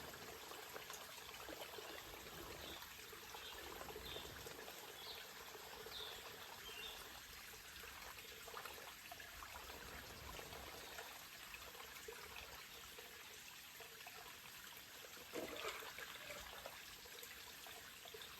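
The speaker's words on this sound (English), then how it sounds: "Then you proceed to filter the water," Water filtered into a bottle on the Appalachian Trail trickles in a soft, steady stream, quiet and close, with small irregular dribbles over faint outdoor background.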